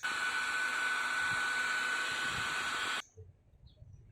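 A hair dryer blows with a steady, high whooshing hum for about three seconds while heat molding inline skates, then cuts off abruptly into near silence.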